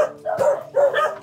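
A dog barks twice in close succession, fairly near and clear, with two yappy, pitched barks separated by a short pause.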